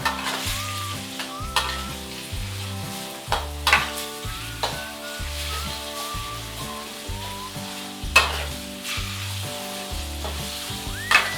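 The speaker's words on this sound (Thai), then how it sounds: "ก็ผัดไปเรื่อยๆ นะ หรือว่าคั่วนี่แหละ" Pork with spring onions stir-frying in a pan, a steady sizzle broken by repeated sharp spatula clacks and scrapes at irregular intervals, over a looping background tune, no speech.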